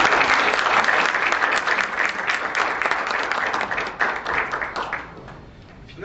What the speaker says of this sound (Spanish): Un aplauso para todos.